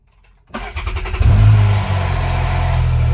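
A CFMOTO U10 PRO utility vehicle engine cranks and fires after a brief silence, rising quickly and then holding a steady, fairly loud idle close by.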